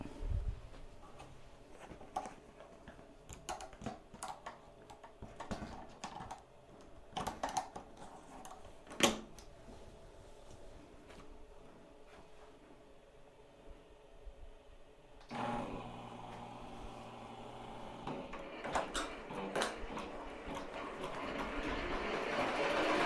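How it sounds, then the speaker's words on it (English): Embroidery machine running a final satin stitch over sequin fabric appliqué on a shirt, a steady fast mechanical chatter that continues at a moderate level throughout with occasional knocks and no talk. "put her back on the machine, let her do the final satin stitch"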